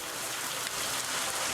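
Rain falls steadily in the Viewfinder video game, a soft continuous hiss of drops, faint and even throughout with no voices.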